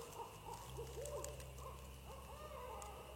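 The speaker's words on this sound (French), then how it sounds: "Un hibou." An owl hoots repeatedly at night in a cemetery, soft rising and falling calls carried over a steady low background hum, with no talking.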